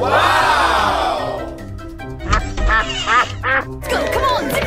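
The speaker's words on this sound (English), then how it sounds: "Quack!" A cartoon duck quacks in a children's animal painting animation, several nasal quacks in quick succession after a swooping whistle-like sound, loud and close.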